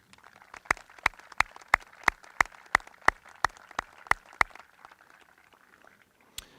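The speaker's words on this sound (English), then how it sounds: "Please join me in a round of applause for these students" Slow, sharp claps at a high school graduation ceremony, about a dozen single hits spaced evenly at close range, fairly quiet overall, stopping after a few seconds, with one last isolated clap afterward.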